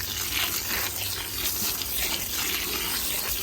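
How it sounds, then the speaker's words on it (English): Water pours from a tap into seed starting mix, a steady close gushing and splashing that runs continuously without pause, no voices over it. "you just add more water"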